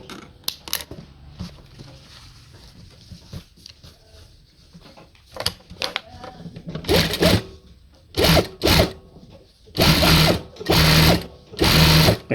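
A sewing machine stitches a shoe with thick thread, starting with scattered clicks and short runs, then running in several loud, close bursts of rapid mechanical stitching.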